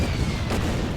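Bomber strike exploding against a tank in the wartime strategy game Order of Battle, set on the Burma Road: a steady low rumbling boom, close and continuous, with no talking over it.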